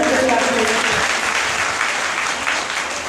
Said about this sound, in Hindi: एक बार अपने लिए तालियां बजाओ